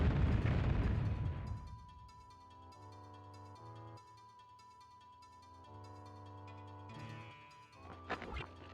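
Bomb blasts in the game Alundra: a loud, broad explosion rumbles and fades over the first couple of seconds, then game music with tones continues, ending in a sharper burst of crackling hits.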